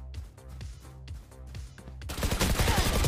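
Rapid gunfire bursts in the video game Valorant erupt midway, loud and dense, following a quieter stretch of rhythmic game music and thumping.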